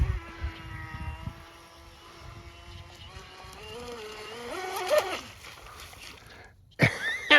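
A model BatBoat motorboat, top-heavy with figures, runs on water, its thin motor whine rising and falling in pitch as it revs, fairly faint, ending with a sudden louder burst.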